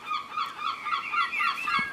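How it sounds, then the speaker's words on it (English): Seagulls call repeatedly in a back garden on an evening, their harsh, honking cries overlapping one another continuously, moderately loud, with no talking. "I don't quite know why you have to make that noise all the time, you seagulls."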